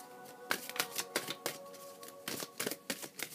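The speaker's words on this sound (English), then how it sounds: "I'm just going to shuffle the deck" A deck of tarot cards is shuffled up close in quiet, quick bursts of crisp riffling and flapping, with short irregular pauses between passes and a faint steady hum underneath.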